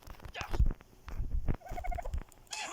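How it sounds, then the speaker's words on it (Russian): Dodo bird in ARK: Survival Evolved making a gobbling, clucking call in short bursts, close and fairly loud with brief pauses between. "Это тоже Додо ведь, да?"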